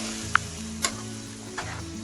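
Meat and whipped yogurt fry with steady sizzling in a pot for aloo gosht, with a few brief scraping stirs breaking through the hiss.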